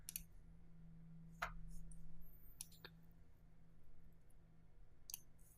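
Sparse mouse clicks at a computer, a few sharp isolated ticks spread over several seconds against a faint low hum, close and quiet.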